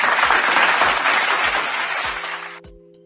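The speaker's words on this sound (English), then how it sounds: "So let's give Miss Leah Brown a nice round of applause" Studio audience applause on a podcast, a dense wash of clapping that holds steady for over two seconds and then cuts off abruptly, leaving a faint low hum.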